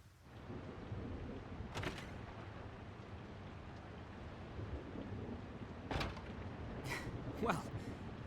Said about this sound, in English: Quite the downpour.